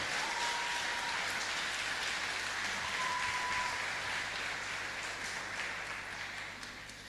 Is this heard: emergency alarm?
no